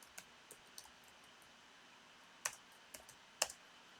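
Quiet, sparse clicks of a computer keyboard as a payroll allowance entry is typed into accounting software during an accounting class, with a few sharper keystrokes standing out against a soft room hiss.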